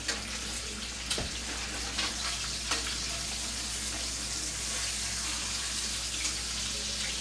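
Meat sizzles and fries in a hot pan as a steady, close hiss with occasional pops and a few clinks of a utensil. No one speaks.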